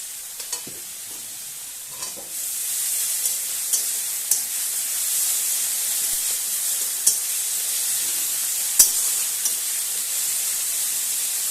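Mustard oil sizzles steadily in a pan while a spice paste with tomato fries, a constant bright hiss with a few soft stirring clicks, close and with no talk.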